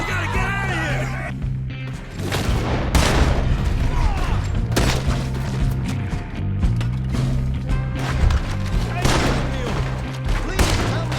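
Repeated gunshots crack and boom through a shootout in Red Dead Redemption 2, with bursts of fire and mechanical clicks scattered across the scene while characters shout over the fighting.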